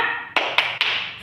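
Children clap out a quick rhythmic 'tepuk semangat' cheer: three crisp, evenly spaced claps over a steady tonal background.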